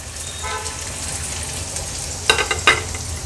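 Chopped onion sautéing in a tablespoon of oil in a pan, a steady close sizzle broken by a few sharp spatula clanks and scrapes near the end, no talk.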